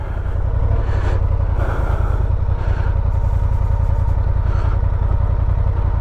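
A Honda Transalp 750cc motorcycle creeps along slowly while the rider feathers the clutch, its engine putting out a steady close, rhythmic low thrum with mild clatter, and no voices.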